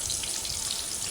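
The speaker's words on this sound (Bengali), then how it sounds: "মাছগুলো উঠানোর পরে আমি যে তেলে মাছ ভাজছি সেই তেলে আবার পেঁয়াজ কুচি দিয়ে দিয়েছি।" Chopped onion dropped into hot oil left over from frying fish gives a steady, close, even sizzling hiss with no voices, lasting about a second.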